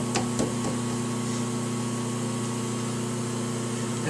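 A lathe set up for friction welding runs at steady speed, a constant mechanical hum with a strong low whine, loud and close, with a couple of brief clicks early on and no talking.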